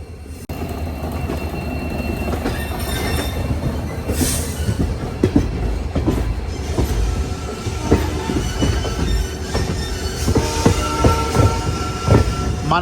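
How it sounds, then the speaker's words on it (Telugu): A WAP-4 electric locomotive pulls the Visakhapatnam–Machilipatnam Express, giving a steady loud rumble with rhythmic wheel clatter over rail joints and occasional brief squeals, and no voices. "మనల్ని పుల్ చేసేది వ్యాప్ 4 లోకోమోటివ్."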